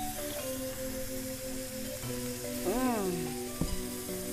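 Shrimp and cabbage stir-frying in a pan with bamboo shoots, a steady close sizzle throughout with a few clattering stirs and a brief sharp knock near the end, accompanied by faint tonal background sound.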